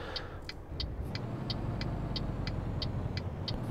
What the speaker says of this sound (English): Using engine braking as much as I can